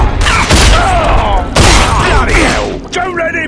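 Heavy turret gunfire in the shooter game Rage, loud bursts of rapid shots and booms in several volleys with whizzing and ricochet-like trails between them, close and dominant.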